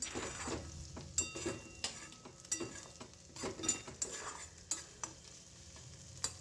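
Onion and spices fry for an egg curry, a quiet sizzle punctuated by irregular scrapes and knocks of a spoon stirring against the pan.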